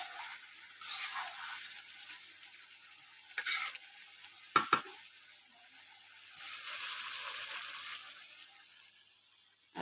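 Goat meat frying in a pan at home, with soft sizzling under stirring, a few sharp clatters of a utensil against the pan midway, and a steadier sizzle swelling toward the end.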